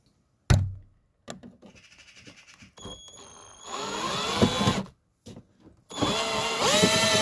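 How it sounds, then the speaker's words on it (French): A power drill bores holes for threaded inserts in the body of a Jeep Grand Cherokee WJ CRD, in several loud whining bursts of rising pitch separated by short pauses and clunks. "Maintenant je vais percer et je vais commencer à placer les inserts filetés."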